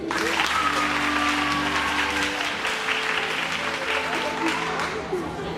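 Sustained crowd applause at a film gathering, broad continuous clapping from many hands with voices and some tonal sounds mixed in underneath throughout.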